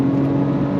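A 2025 Ford Ranger Raptor pickup accelerates onto a highway, its engine giving a steady, loud hum with a strong low drone. Road and wind noise run through the short burst.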